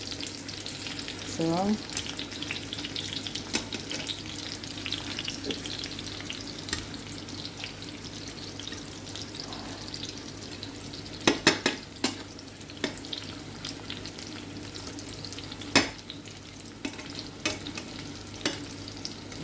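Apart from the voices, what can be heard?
frying kamoys in a pan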